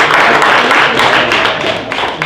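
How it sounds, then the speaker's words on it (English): A room full of people at a sales meeting claps in loud, dense applause that holds steady and then begins to taper off near the end. "let's give him a round of applause"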